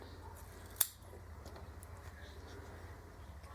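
A single crisp snip of scissors cutting fabric for a zebra-print tutu, near and brief, followed by quiet room tone.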